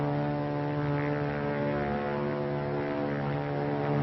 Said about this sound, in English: It's a plane, all right.